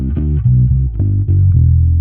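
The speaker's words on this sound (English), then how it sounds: "Yeah, you want a big, smooth, rich bass sound that will cover your whole mix? My go-to is some light distortion." An electric bass guitar with light distortion plays a run of sustained, thick low notes, loud and close, each note ringing into the next without any talk.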